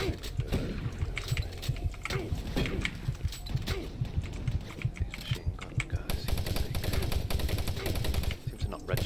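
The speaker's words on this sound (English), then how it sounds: "These machine gun guys." Rapid machine gun bursts from enemies in the 2004 id Software shooter Doom 3, dense overlapping gunfire and impacts filling the whole stretch, loud and continuous with brief gaps, over game sound.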